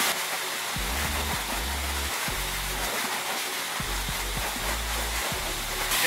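A coin-op car wash pressure wand sprays soap onto a vehicle, a loud continuous hissing roar close by, with a few low voice-like bursts underneath.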